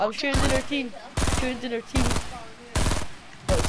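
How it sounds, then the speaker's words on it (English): Fortnite gunfire in four or five sharp automatic bursts spaced about a second apart, loud and close, with someone talking between and over the shots. "I just shot in her teammate"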